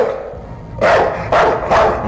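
A dog barks three times in the horror game Night People, the loud, spaced barks cutting through a quiet room tone with no talk over them.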